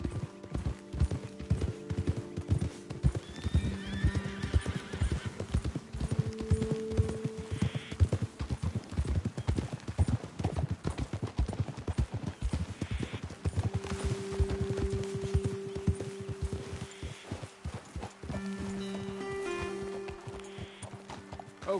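Horses clip-clopping steadily along a trail in the video game Red Dead Redemption 2, hooves thudding in a brisk continuous rhythm close by, with occasional snorts and whinnies and game music tones underneath.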